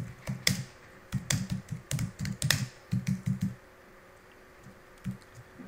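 A name typed on a computer keyboard: close, crisp keystrokes in quick bursts with short pauses, then a few scattered final taps, with no voices.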